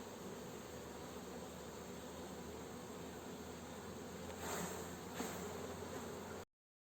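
A queenless swarm of honey bees hums in a steady, calm drone that holds close and even throughout, swelling slightly near the end before stopping abruptly.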